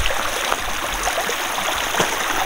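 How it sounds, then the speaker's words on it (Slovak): A small stream trickles along a muddy forest path in Russia, a steady, close babble of flowing water with faint gurgles throughout and no voices. "Je to proste fakt potôčik."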